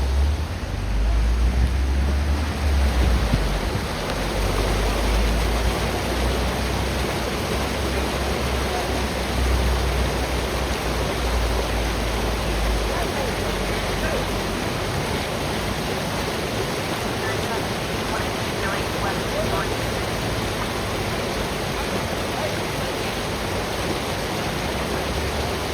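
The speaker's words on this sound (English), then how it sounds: "Go sit on your balcony and listen to this waterfall." Steady broadband rush of a waterfall in downtown Los Angeles at evening, loud and continuous throughout, with low rumble underneath and no talk over it.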